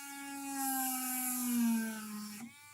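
Rotary tool cutting through a copper trace on a SNES circuit board during a CleanRGB mod install. It makes a steady, close, high-pitched whine that drifts slightly lower in pitch and runs continuously for about two and a half seconds before cutting off.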